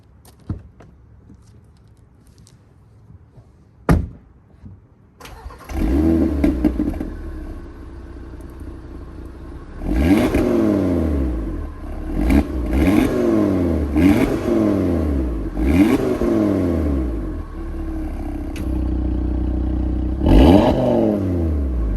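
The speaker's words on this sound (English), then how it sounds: "you guys can hear the glorious 5-cylinder noises that this car makes" A 2021 Audi TT RS five-cylinder engine starts, then revs repeatedly in sharp bursts, its growl rising and falling several times close by.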